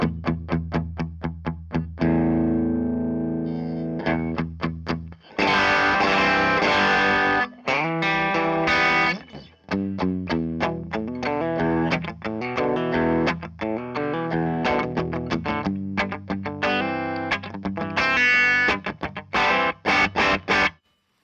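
An electric guitar plays through a Pettyjohn Chime MKII pedal set to a less gainy, mildly driven tone, strumming chords and picking phrases with short pauses. It sounds loud and close, with no one talking.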